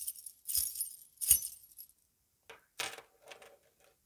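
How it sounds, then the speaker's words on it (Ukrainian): A bunch of keys shaken in rhythm, producing a few bright metallic jangling bursts separated by short pauses, close and clear with nothing else around. "А румбу можемо замінити зв'язкою ключів, ритмічно ними струшуючи."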